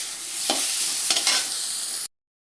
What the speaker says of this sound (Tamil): தக்காளி சேர்த்துக்கலாம் தக்காளி நல்லா வதங்கட்டும்